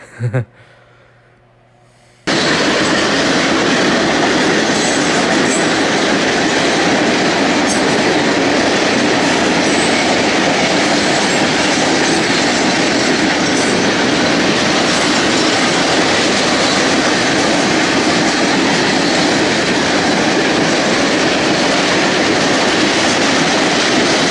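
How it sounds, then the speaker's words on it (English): A work train rumbles steadily past at close range, loud wheel clatter and rail noise filling the scene after a brief quieter start, with faint wheel squeal. "Realized it was a work train."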